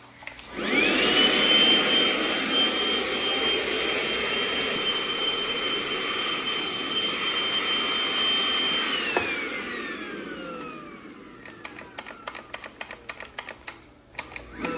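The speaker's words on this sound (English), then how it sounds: "So me and my wife both love this M18 vacuum from Milwaukee" A Milwaukee M18 cordless vacuum with a fault that makes it cut out runs with a loud steady whine and rushing airflow, then powers down with a falling pitch, followed by a series of quick clicks.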